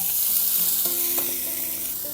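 Vegetables sautéing in a hot pan for vegan fried rice give a steady, loud sizzling hiss throughout, with faint clinks of stirring and no talking.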